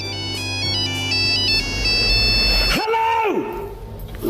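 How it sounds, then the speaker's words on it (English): A telephone ringtone plays a bright, repeating electronic melody in a workshop during the repair of a 1976 Music Man 112 Sixty Five amp. It is followed by a gliding rise-and-fall tone, loud and close, with no speech. "Somebody's making a phone call."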